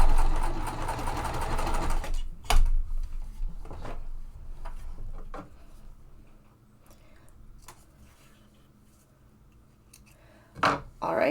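A sewing machine runs in a loud, steady burst at the start, then goes quiet. Sharp ticks and clicks from hand-cranking the needle into quilting cotton follow, with a louder mechanical burst near the end.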